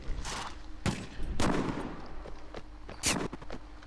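Gunfire in a samurai video game: several sharp shots and bursts pop in irregular succession, loud and close, over a low background of game ambience with no talk.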